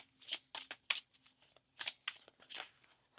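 Tarot cards are shuffled close by in a quick series of soft riffling bursts with short pauses between them, and nobody speaks.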